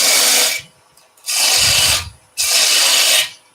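A deep cove being cut into a small wooden spindle on a lathe, heard as three separate loud bursts of harsh, hissing cutting noise. Each burst lasts about a second, with quiet gaps between them.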